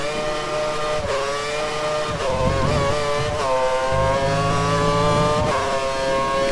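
An F1 race car in F1 2013, running in full wet conditions at Silverstone, gives a loud, continuous high-pitched engine whine that climbs and dips through repeated gear shifts and throttle changes.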